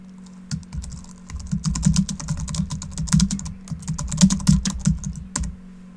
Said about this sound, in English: we highlight the text, and we type in the subtitle